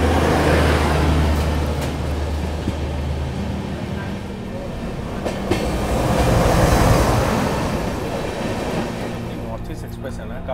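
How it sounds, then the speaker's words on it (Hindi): Indian Railways Bhagalpur–Anand Vihar Garib Rath Express passenger train rolling along, with a steady low rumble and rail noise that swell and ease slightly, heard close up from on board. "भागलपुर आनंद विहार गरीब रथ एक्सप्रेस"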